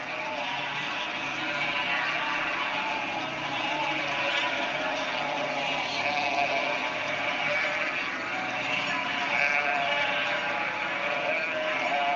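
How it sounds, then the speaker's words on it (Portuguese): A flock of sheep bleats steadily as it moves along a town's main street on its yearly route, a dense continuous chorus with some low traffic rumble underneath. "essas ovelhas passam por essa rua principal todos os anos, vão e voltam"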